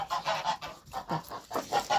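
Geese and a gander at a farmyard nesting area honk loudly and close in a quick series of harsh, nasal calls over about two seconds, with no talking.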